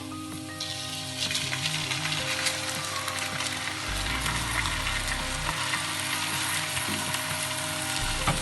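Rice is being stirred into hot ghee with softened onions, giving a steady close sizzle broken by scraping stirs, under quiet background music.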